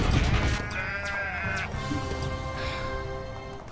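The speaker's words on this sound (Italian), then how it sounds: "sono rimaste solamente le pecore demoniache" Demonic sheep in a video game bleat loudly and close, one long wavering cry followed by quieter overlapping bleats.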